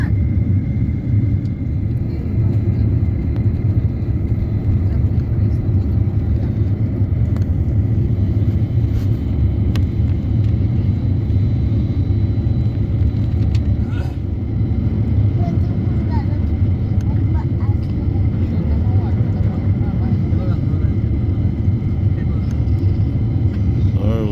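Inside an airliner cabin during de-icing on a windy day, a steady low engine and airflow rumble drones on without a break, with faint clicks and small knocks now and then.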